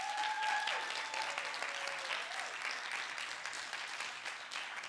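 Audience applause fills a final pitch event for a youth startup lab, a dense, steady clatter of many hands clapping that carries on for several seconds without letting up.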